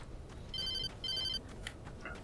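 Two bursts of a telephone ringing in the Alan Wake video game, a bright electronic double ring repeated with a short gap, over a low dark ambient hum.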